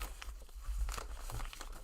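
Rugby league trading cards being shuffled by hand, a quick run of soft crinkling, flicking and rustling bursts close by, with no talking.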